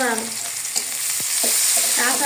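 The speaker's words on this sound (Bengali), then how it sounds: "মাছ ভাজা তেলের ভিতরে দুটো এলাচ, দারচিনি, তেজপাতা, পেঁয়াজ কুচি" Cardamom, cinnamon, bay leaf and chopped onion frying in the oil left from frying snakehead fish, with a steady bright sizzle and a few clinks and scrapes of stirring, close and alone.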